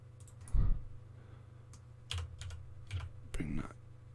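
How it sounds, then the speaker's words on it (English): Keys on a computer keyboard are pressed in a few separate bursts of clicks while modeling in Blender, fairly close and soft against a low steady hum. "so press an I on the keyboard"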